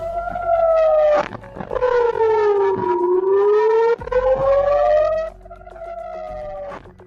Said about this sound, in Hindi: यहां पर हवाई हमलों के सायरन बजने लगे।